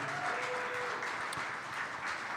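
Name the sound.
applause for Emanuel Wilson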